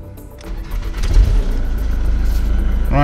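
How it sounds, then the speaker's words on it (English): A Ford Mondeo engine cranks briefly and catches, then settles into a steady, rumbling idle close by. "We shall start the engine."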